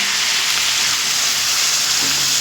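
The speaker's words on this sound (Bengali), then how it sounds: "এবার দিয়ে দেব উষ্ণ গরম জল" Warm water hits a pan of sizzling pumpkin, potato and shrimp curry with lentils, raising a loud, steady, hissing fry that holds without pause.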